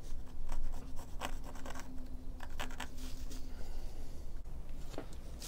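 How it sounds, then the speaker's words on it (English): A pencil marks out an inlay on wood for a hand-cut bass build, giving soft scratchy strokes in short bursts, near and fairly quiet. "I think what I'm actually going to do is actually just use a pencil"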